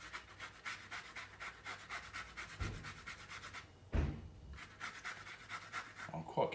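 A lemon zested by hand for garlic prawns: quick, rhythmic rasping strokes up close, briefly pausing before the scraping resumes at a steady pace.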